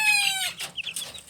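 Hens and chicks in a small henhouse make a short high cheep followed by quick soft clucks and peeps, close and fairly loud.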